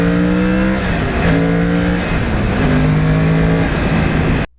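A Yamaha R1 cross-plane engine revs hard as the throttle is whacked open, a loud, close roar rising in pitch in repeated surges before cutting off abruptly.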